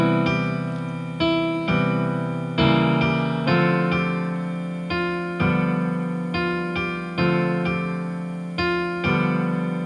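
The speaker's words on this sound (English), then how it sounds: "So let's put the chords and the melody together in a very simple fashion." Piano chords are struck in a steady, repeating rhythm, each ringing and fading, with a simple melody on top. No voices.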